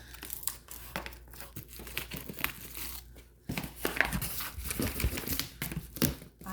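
Plastic packaging on a Gina K. Designs vintage summer card-making kit crinkles and crackles as it is opened, a steady run of close, loud rustling with sharper crackles and a brief pause near the middle.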